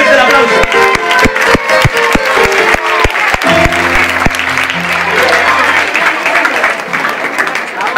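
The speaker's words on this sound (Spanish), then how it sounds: "¡Fuerte el aplauso!" At a campaign lunch, a crowd breaks into loud applause over sharp percussive hits and a sustained musical tone, and the clapping continues densely throughout.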